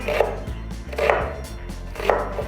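A knife chops through a peeled onion on a cutting board, three crisp, evenly spaced strikes about one second apart, close and clear with no voices.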